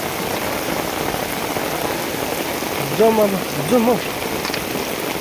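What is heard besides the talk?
heavy rain falling during a flood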